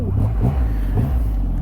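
A Triumph Rocket 3 R motorcycle's 2.5-litre engine rumbles deep and close, with a low, throbbing idle that pulses unevenly throughout.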